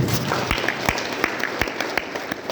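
A crowd at a gathering applauds, a dense patter of many hands clapping steadily throughout with some sharper individual claps standing out.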